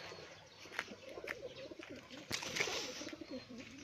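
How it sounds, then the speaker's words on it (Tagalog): Pigeons coo softly in low, throaty murmurs, mixed with occasional scuffles and light background noise. "papakita ko muna yung mga kalapati nila doon"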